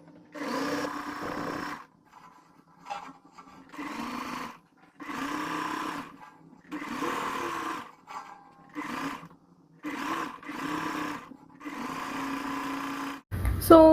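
A sewing machine stitches the pleats of a ready-to-wear saree in short, regular bursts of about a second each, separated by brief pauses, at a moderate volume close by.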